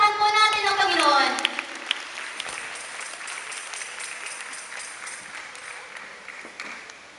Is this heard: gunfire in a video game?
no